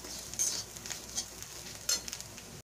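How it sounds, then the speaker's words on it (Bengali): Spices with turmeric and cumin powder being fried and stirred in a pan over a low gas flame, giving a soft steady sizzle with brief scraping stirs near the start and again later. "তো এটা আমার ভাজা হয়ে গেছে মশলার সঙ্গে ভালো করে"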